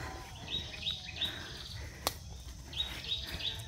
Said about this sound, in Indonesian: suara burungnya cakep